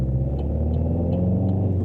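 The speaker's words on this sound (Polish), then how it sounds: "i 4000 obrotów, na pewno nie zgaśnie" A car engine hums at around 4000 rpm while driving, a steady loud low rumble from inside the cabin with faint periodic ticks over it.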